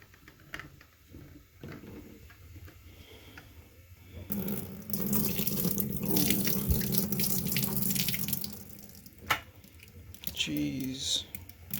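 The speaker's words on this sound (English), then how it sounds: "And now we're going to dump out the dirty water that came out of one chair." Dirty water from the tank of a Bissell Little Green ProHeat Pet carpet cleaner pours out in a steady splashing stream into a sink for several seconds, with quieter handling sounds before and after.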